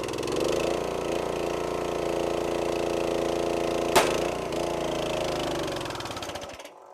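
A hydraulic log splitter with a two-stage pump and its bypass set too high, running as a steady loud engine-and-pump drone that holds throughout, with one sharp crack partway through before the sound cuts off near the end.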